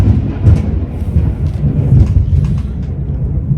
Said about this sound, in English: So, thunder and lightning.